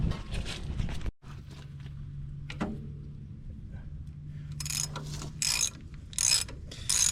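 A ratchet wrench loosens a 3/4 inch nut carrying a grease fitting on a machine track, giving bursts of quick clicking pawl ratchets close by, separated by a low mechanical hum and scraping, with no talk.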